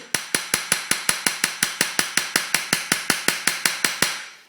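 A hammer strikes metal in damascene inlay work, about twenty evenly spaced sharp ringing taps in a fast steady rhythm, close and clear, each blow decaying briefly before the next.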